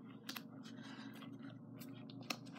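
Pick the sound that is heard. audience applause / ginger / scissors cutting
scissors cutting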